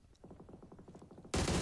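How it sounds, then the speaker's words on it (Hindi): Rapid automatic gunfire from the mobile battle royale game BGMI rattles in a fast, even burst of about a dozen shots, then a loud dense blast of noise cuts in near the end. "कुछ गोलियां दागने का प्रयास भी था लेकिन कुछ खास कमाल हुआ नहीं"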